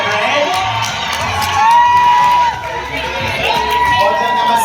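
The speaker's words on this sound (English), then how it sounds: "now the next round of applause for model number 6" An audience at a fashion show cheers and claps for a model on the runway, a loud crowd roar with whoops and shouts over an announcer's amplified voice and music.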